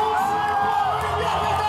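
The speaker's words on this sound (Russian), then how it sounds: "Дайте шума и аплодисментов." Wedding guests raise a loud burst of cheering, whoops and yells as the newlyweds arrive, a dense crowd noise that holds steady through the short moment, with voices mixed in.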